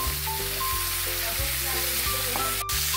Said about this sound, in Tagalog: Igisa muna natin tong kalabasa.